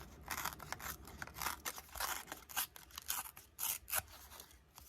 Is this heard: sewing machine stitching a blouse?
no